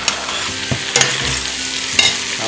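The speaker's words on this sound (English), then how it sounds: "Make sure you keep scraping all the bits off the bottom." Venison goulash sizzling in a pot while a utensil scrapes and stirs the bottom, with steady frying hiss and several sharp scrape strokes close by.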